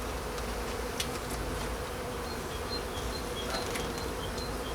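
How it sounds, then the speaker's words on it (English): Honeybees buzz steadily and continuously around an opened brood box during an early-spring hive inspection, a dense close-up drone with a few louder individual bees passing near. "the bees are really good since I've disturbed them"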